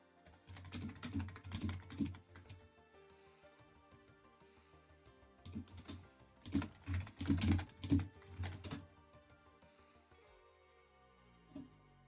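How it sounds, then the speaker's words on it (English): Fast bursts of typing on a computer keyboard come in clustered rapid clicks separated by quiet pauses, close and fairly crisp, with a soft low hum beneath. "I'm just quickly typing here"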